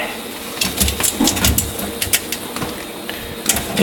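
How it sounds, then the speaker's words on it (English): Inside a cooktop exhaust duct, a trapped bird is being pushed out: muffled flutters, scrapes and knocks against metal, with irregular close bumps and rustles. "My hope is that big enough a surface so that I can push that bird out."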